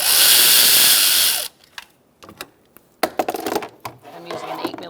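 A ratchet on an 8 mm socket loosens a radiator hose clamp on a 2004-2009 Mazda 3, heard as a series of sharp, close clicks and clatters that follow a loud, steady whirring noise at the start.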